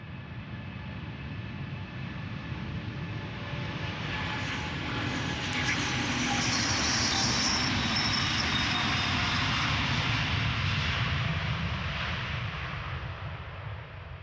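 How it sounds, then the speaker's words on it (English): A Delta Airbus A330neo jet takes off close by at Amsterdam Schiphol Airport with a loud sustained engine roar that swells and holds for the whole stretch. "Yet another Delta A330 Neo taking off successfully."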